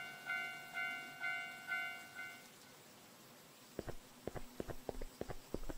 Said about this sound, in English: It's just the train whistle.